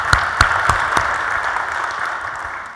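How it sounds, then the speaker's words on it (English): Audience applause at a talk, a steady wash of clapping with a few louder individual claps near the start, fading slightly toward the end. "So if you can just give her a round of applause,"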